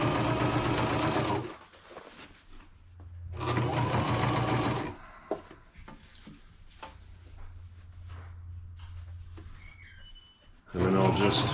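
A sewing machine runs in short bursts while stitching a seam on homemade solar curtains, with quiet handling and fabric sounds between the runs.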